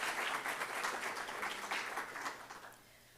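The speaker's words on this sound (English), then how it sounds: "round of applause" Audience round of applause for graduates at a student government inauguration and awards ceremony, brisk clapping that thins and fades out toward the end.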